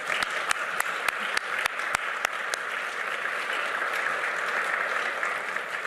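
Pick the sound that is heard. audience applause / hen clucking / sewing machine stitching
audience applause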